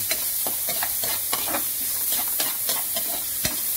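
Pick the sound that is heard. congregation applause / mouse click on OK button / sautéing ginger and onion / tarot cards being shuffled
sautéing ginger and onion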